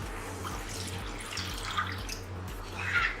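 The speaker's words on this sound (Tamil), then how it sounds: "நான் வந்து 2 கப் தண்ணி ஆட் பண்ண போகிறேன்" Water is poured into a simmering pan of mutter paneer gravy, a soft continuous trickle and splash close by, fairly quiet and steady, with no talking.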